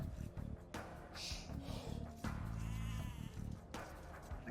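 Sheep bleat in the Age of Empires 2 video game, several short nasal bleats mixed into game sounds with someone talking over them.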